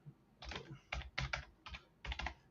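Several quick bursts of keystrokes clatter on a computer keyboard, arriving in short clustered groups with brief pauses between them, faint and close with no voices.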